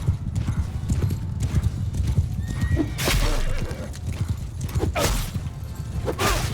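Hooves clatter in a fast, steady galloping rhythm in the video game Mount & Blade II: Bannerlord, with a horse whinnying and bursts of whooshing noise over a busy, rumbling background.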